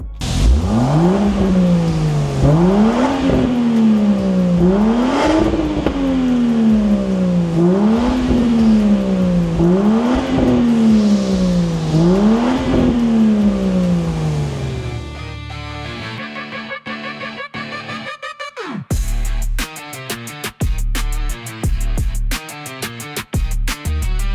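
A Range Rover L461 with an Urban Automotive widetrack kit and Valeno catback exhaust revs hard in repeated rising sweeps, about six pulls, then settles into a rough, burbling idle with sharp pops.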